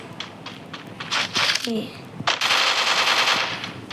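Rapid bursts of automatic gunfire from a video game, loud and close, with a speaking voice breaking in between volleys.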